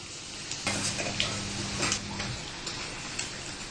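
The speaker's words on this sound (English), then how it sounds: "Just fry this on the medium flame." Moong dal pakoda batter frying in hot oil over a medium flame, giving a steady close crackle and sizzle with scattered ticks and a brief low hum partway through.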